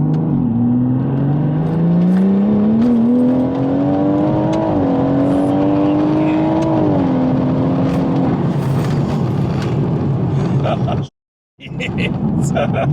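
Tuned BMW M140i engine accelerating at 60% throttle, heard from inside the car, a loud rising engine note that climbs steadily over several seconds before easing off, with brief voice sounds.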